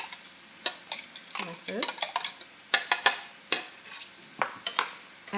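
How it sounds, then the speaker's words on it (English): Bread dumpling dough for Bavarian Knödel being mixed in a bowl: irregular scraping and clinking of a utensil against the bowl, close and fairly quiet, with a brief spoken phrase. "And I will just slightly mix this together."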